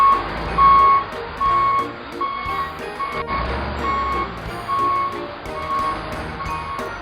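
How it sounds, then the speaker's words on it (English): A yellow toy backhoe reverses, sounding a regular series of high, clear beeps over a low rumbling engine, loud and close throughout. "Backhoe."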